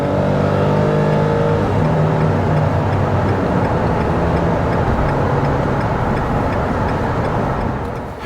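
A truck accelerates onto the highway, its engine droning and climbing under a wash of road and wind noise, heard steadily from inside the cab with no talk.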